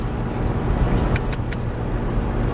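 A car driving along with two cats loose inside, a steady low cabin rumble of engine and road noise, a few brief higher chirps and squeaks partway through.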